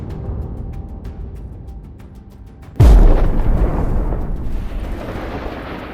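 Leopard tank gun firing at Russian tanks: a single deep, sudden blast after a quieter stretch of rumbling, followed by a long rolling echo that fades slowly.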